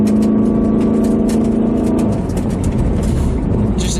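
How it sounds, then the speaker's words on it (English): A stock-exhaust turbocharged car accelerates hard, its loud, steady engine drone climbing in pitch for about two seconds before breaking into a rougher, broadband roar as it pulls on. "It's got an amazing throaty tone to the exhaust"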